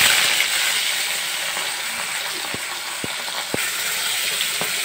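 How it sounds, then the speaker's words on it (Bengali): Fish pieces frying in hot oil in a wok, a steady close sizzling hiss with a few soft pops and clicks, no voices. "এগুলো সবকটাই দিয়ে দিয়েছি, একটু ভালো করে ভাজা হোক"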